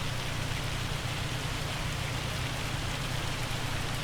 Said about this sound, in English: I don't even know why it is hailing,